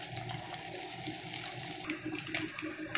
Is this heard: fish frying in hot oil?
yes